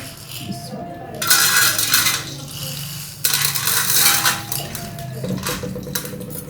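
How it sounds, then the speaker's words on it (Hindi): Popcorn kernels pour into a pan in two bursts of close, bright rattling and pattering, each lasting a second or two, over a low background hum. "ये मैं तकरीबन ये देख लें हाफ प्लेट जो वो मैं इसमें कॉर्न डाल दूँगी"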